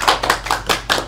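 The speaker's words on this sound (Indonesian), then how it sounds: "Tepuk tangan buat kalian" Students in a school microteaching class clap together in a short burst of about five distinct, fairly loud and close handclaps with a loose, uneven rhythm.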